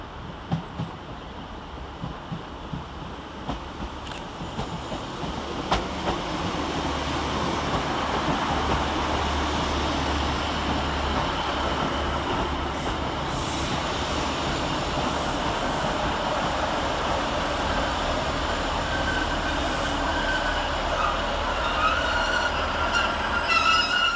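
A Northern Rail service pulls into Blackburn railway station, the rumble of the train growing steadily and filling the platform, with faint wheel squeal and rail clatter as it arrives. No voices are heard over it.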